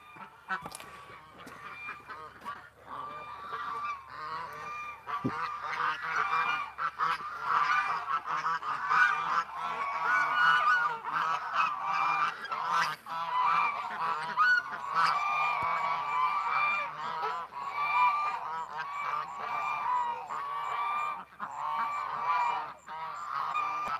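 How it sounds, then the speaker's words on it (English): A dense flock of ducks and geese calls in a loud, continuous chorus of honks and quacks at close range, overlapping without pause and with no speech. "We got a duck rush."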